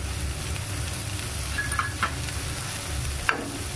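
Paneer fried rice is stirred in a hot pan, a continuous sizzle and hiss with soft scraping strokes and a few brief clinks of the utensil, close and steady, with no voices.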